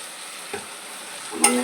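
Poppy seed paste goes into ridge gourd frying in a pan, giving a steady soft sizzle with a brief stir near the start and a sharper clatter and sizzle burst near the end, no voices.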